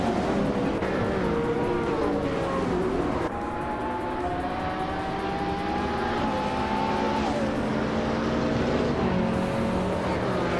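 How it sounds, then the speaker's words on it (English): 2010 Lamborghini Gallardo Superleggera and other supercars racing in a video game, a steady engine whine climbing through gears with shifts, fairly faint and continuous, without talk. "he's cruising in a 2010 Lamborghini Gallardo Superleggera"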